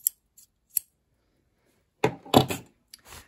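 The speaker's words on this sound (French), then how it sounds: "je découpe avec des ciseaux dentelés" Pinking shears snip through fabric while a book cover is being sewn: two crisp, isolated cuts near the start, then after a pause a louder cluster of snipping and fabric handling, close up with no talking.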